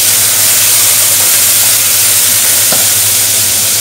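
Roast frying in a hot pan, a loud continuous sizzle and hiss with steam, broken by a faint scrape of stirring near the end, no talk.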